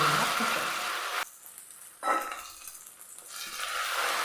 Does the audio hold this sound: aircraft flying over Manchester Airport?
no